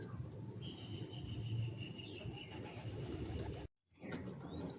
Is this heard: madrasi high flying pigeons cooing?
yes